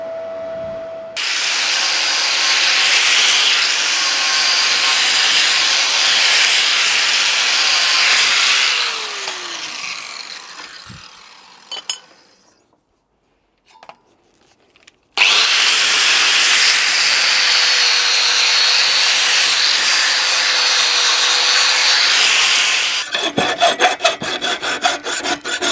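Steel light mountings for a Fowler steam roller are ground and trimmed to size, a loud continuous abrasive rasp in two long bursts separated by a brief pause with a few clanks.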